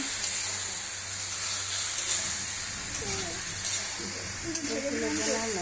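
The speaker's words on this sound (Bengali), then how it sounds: "ভাজার পর এখন পটলগুলোকে এটার মধ্যে দিয়ে দিলাম" Pieces of pointed gourd, just fried, hiss and sizzle steadily in a hot frying pan, a continuous close bright crackle with faint bubbling that grows busier toward the end.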